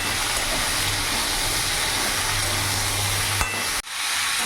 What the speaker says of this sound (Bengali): এইভাবে তেলের মধ্যে আমি ভাজা ভাজা করে নেব সব একসাথে